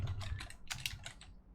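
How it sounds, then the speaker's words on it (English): Quick bursts of typing on a computer keyboard, a close run of crisp key clicks in uneven clusters with no voices. "I can't type right now."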